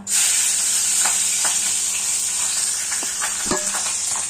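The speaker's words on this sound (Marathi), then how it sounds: "हे पहा अशा मिरच्या पण आपण भजी बरोबर खायला साध्या तळून घेऊया" Green chillies fry plainly in hot oil, a steady loud sizzle running throughout with a few crackles and the odd stirring clink, and no voice over it.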